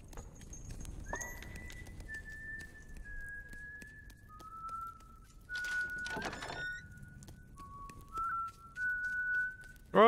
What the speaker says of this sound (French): Ok, c'est pour ça qu'il y a un mec qui siffle.